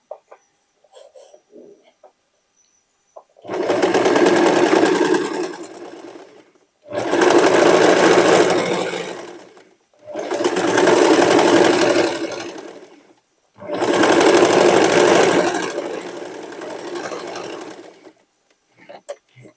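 A sewing machine runs a triple zigzag stitch along a denim pocket in four long whirring bursts of a few seconds each, separated by short pauses.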